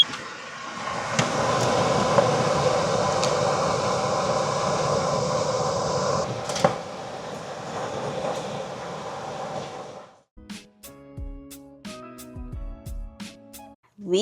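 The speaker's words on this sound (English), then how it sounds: "Put my dryer on for 50 minutes." A steady, loud whooshing motor drone like a hair dryer runs for about ten seconds, then cuts off and music takes over.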